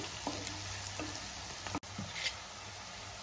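Ginger garlic paste fries in a pan, giving a soft, steady sizzle. It is faint and continuous, with a few light clicks of a utensil and no speech.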